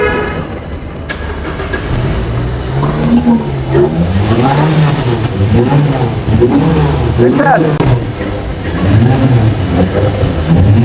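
A Nissan Juke SUV engine starts and is revved repeatedly, its loud close-up note rising and falling in a series of throttle blips, with people speaking over it.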